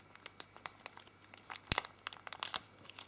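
Origami paper for a spinning top crinkles and creases in close, sparse ticks and rustles as sections are folded up, with one sharper crackle midway, heard alone without voices.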